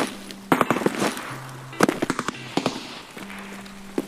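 Close gunfire in the video game Escape from Tarkov, rapid sharp shots in several short bursts from just nearby, loud and cracking over a low in-game hum.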